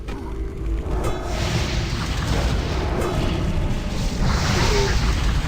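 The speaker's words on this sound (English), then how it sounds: "Explosions." Explosions booming in World of Warcraft during a level 26-28 human paladin run, a rolling series of deep blasts with whooshing debris sustained across the moment, with no speech over them.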